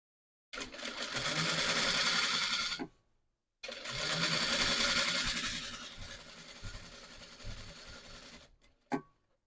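A sewing machine stitches blouse lining and main fabric together in two long, steady whirring runs separated by a brief pause, ending with a short clack, close by with no talk.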